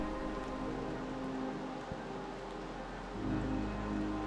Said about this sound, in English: pretty rainy today